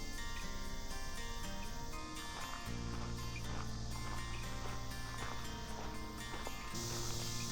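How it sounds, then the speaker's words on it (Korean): Cicadas give a continuous, hissing high drone in a dense forest along a wooded trail. The sound is fairly faint and runs under background music throughout. "매미 소리를 들으며 숲길을 걷다 보면"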